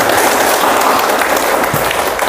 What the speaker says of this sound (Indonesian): Tepuk tak terhingga untuk kita.